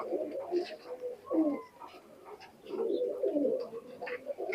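Pakistani high flyer pigeons in a loft give steady rolling coos, several birds overlapping in bursts close by, with little other sound.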